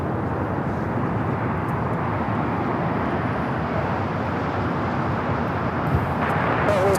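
A Turkish Airlines jet airliner, flight heading to Istanbul, takes off at LAX, its engines a steady, loud broadband roar that holds throughout and swells slightly near the end.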